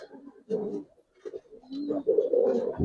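Giribaz coloring pigeons coo in soft, repeated throaty phrases at close range, with brief gaps between calls and a quiet background.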